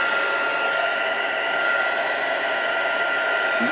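A heat tool blows steadily and loudly for nearly four seconds, melting embossing powder on a vellum greeting card, a constant broadband whoosh with no talking.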